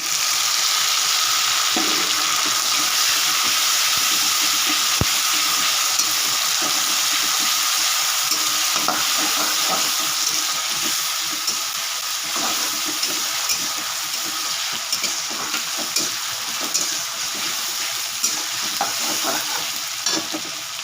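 Grated tomato and green chili hit a hot pan and fry with a loud, continuous hiss and sizzle, broken by occasional scraping stirs, close up with no voices.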